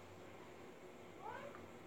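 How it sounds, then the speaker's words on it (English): A kitten gives a short, faint meow partway through, set against steady low background noise, with no talking. "Please let the kitten go."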